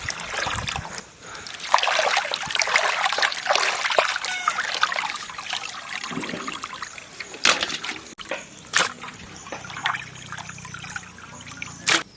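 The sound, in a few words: water running while washing raw mangoes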